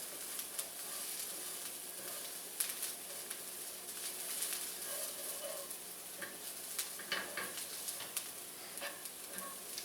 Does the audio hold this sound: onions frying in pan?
yes